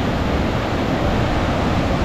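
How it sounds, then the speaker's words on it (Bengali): Damadiri Falls, a wild waterfall near Chakradharpur and Chaibasa in Jharkhand, with water crashing over rocks: a steady, loud, dense roar with no breaks, close by and alone. "একদম সুন্দর উদ্দাম ঝর্ণা"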